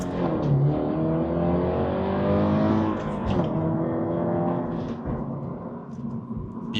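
A Subaru BRZ with a 2.4-liter boxer engine accelerates hard to highway speed, heard from inside as a loud, close engine note rising through the gears, with brief dips at each shift.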